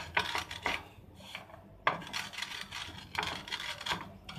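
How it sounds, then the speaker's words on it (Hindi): Roasted spices for jaljeera masala ground by hand, a gritty rasping scrape repeated in a few strokes with brief pauses, close and fairly quiet with no talk. "सूखने के बाद ये हम लोग हाथ से भी पीस सकते हैं"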